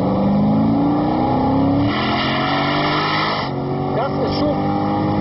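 A Corvette Z06 with a 7-litre naturally aspirated V8 producing 512 PS pulls hard, its loud engine note climbing steadily through the rev range with tire noise beneath, while a voice talks over it.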